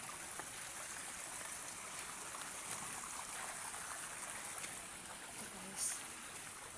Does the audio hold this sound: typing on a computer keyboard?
no